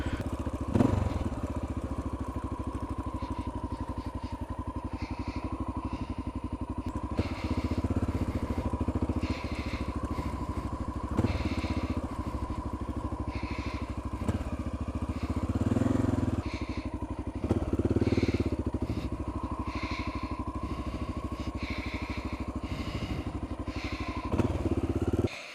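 A Honda XR650L dual sport motorcycle rides across a wilderness field, its engine droning loud and close throughout with occasional thumps and clatter over the rough terrain.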